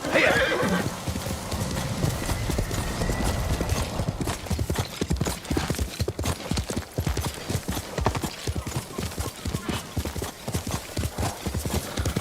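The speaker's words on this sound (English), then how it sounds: "You're a good horse, Noble." A horse in the video game Ghost of Tsushima neighs at the start, then hooves clip-clop in a steady rapid rhythm, loud and close, continuing throughout.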